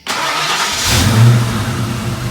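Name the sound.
1992 Ford Mustang GT 5.0/302 engine running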